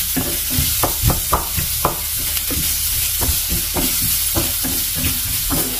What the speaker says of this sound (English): So we're just gonna do this until our onion is soft and cooked.